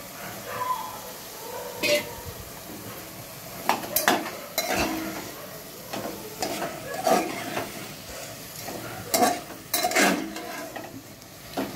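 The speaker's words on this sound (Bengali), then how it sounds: "এবার আলুগুলো দিচ্ছি।" Potatoes added to mutton keema in a pot, with soft sizzling, scattered stirring clinks and scrapes against the pot, close up, and a voice speaking intermittently over the cooking.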